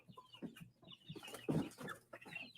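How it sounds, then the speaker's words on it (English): Young chickens clucking indoors in a house, a busy run of short soft clucks and chirps close by, no voices. "Chicken."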